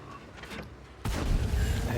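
A tank cannon snapshot in a T-62A tank battle video game, one abrupt, loud blast cutting in about halfway after a quieter stretch of background game noise, followed by a sustained rumble.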